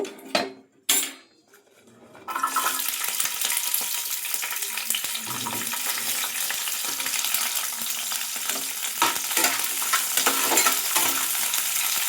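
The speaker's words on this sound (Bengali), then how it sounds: "এবার আমি বিন কড়াইটা ভেজে নেব" Beans frying in a kadai for shukto sizzle steadily and loudly after a few quiet seconds with brief clinks of utensils, the hiss continuing unbroken to the end.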